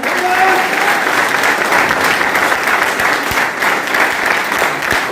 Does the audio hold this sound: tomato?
no